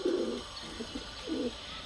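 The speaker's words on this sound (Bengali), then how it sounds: "কবুতরের ডাক দেখেন" A pigeon coos twice, soft low throaty calls close by with a short pause between them.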